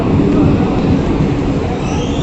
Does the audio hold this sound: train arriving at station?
yes